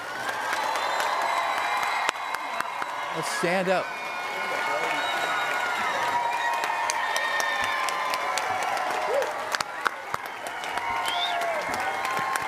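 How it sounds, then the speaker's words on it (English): Applause and cheering from a commencement crowd honoring graduates, steady clapping that fills the whole stretch, with a speaker's voice briefly heard over it. "Let's hear a big round of applause for all of these graduates."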